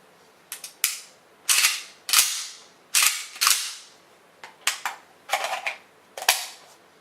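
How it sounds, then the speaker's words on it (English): Bolt catch on a PSL-54C rifle snapping and clacking, a run of sharp metallic clicks and snaps in uneven clusters, close up and crisp, with no voices. "it actually hits that fucking bolt catch and pushes it up"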